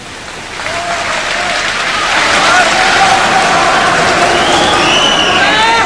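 A large audience claps steadily, the applause swelling and holding dense and loud, with a few cheers and shouts rising above it.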